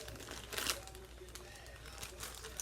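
A plastic yarn bag crinkles and rustles in short bursts close by, with soft handling noises between the louder crackles.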